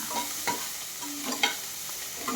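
A spoon scrapes and stirs finely chopped ingredients in a pan before ragi vermicelli goes in, a few quick scraping strokes over a soft sizzle, with no talking.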